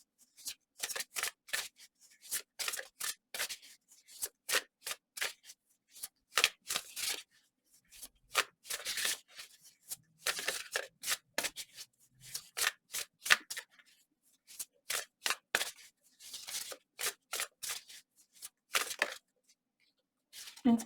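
Tarot cards are shuffled in quick, crisp bursts of riffling and snapping, close and clear, repeating in irregular clusters with short silent gaps between them.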